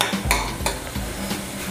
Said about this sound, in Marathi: पुन्हा आपल्याला हे मिश्रण शिजवून घ्यायचं आहे, गूळ आणि लाल भोपळ्याच्या किसचं.